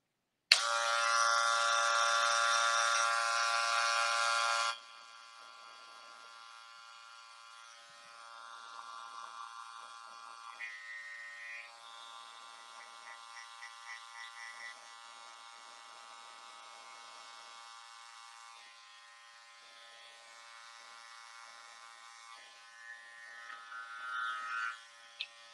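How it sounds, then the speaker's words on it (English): A cordless gold Magic Clip hair clipper with a diamond-like-coated DLC blade, used on a men's textured cut, buzzes loudly and steadily up close for about five seconds, then drops to a quieter, wavering hum as it cuts. "I'm using the cordless gold magic clips with a DLC blade, which means diamond-like coating"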